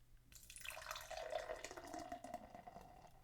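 A canned drink poured from a tin close to the microphone, a fizzy liquid splash and trickle lasting a few seconds and heard alone.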